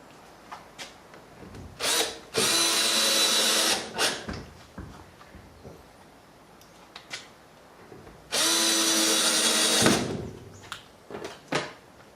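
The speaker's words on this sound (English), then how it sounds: "I use the particle board screws because they get a good grip, and you can just drill it home" A power drill drives particle board screws into soft timber door lining, two long steady whirring bursts of several seconds each, close and loud, separated by quieter handling knocks and taps.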